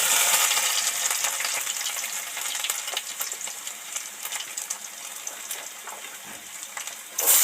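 Taro, potato and tomato pieces deep-frying together in hot oil flavored with five-spice and dried chilies, a steady loud sizzle and crackle throughout, swelling again at the end.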